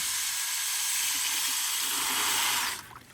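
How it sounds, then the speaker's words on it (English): A steady whirring hiss of a drill spinning in a bucket of water to clean off plaster of Paris, continuous and fairly loud, cutting off abruptly near the end. "we'll just clean our drill, run it in a bucket of water"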